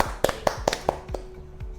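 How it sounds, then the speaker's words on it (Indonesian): A few hands clap briefly at an Indonesian statistics talk show, giving four or five separate, evenly spaced claps that fade out, fairly close but light and thin, with no voices over them. "Tepuk tangan untuk statistik ya"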